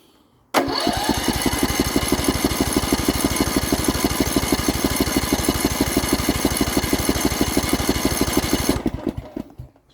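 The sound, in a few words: Poulan Pro small engine starting on choke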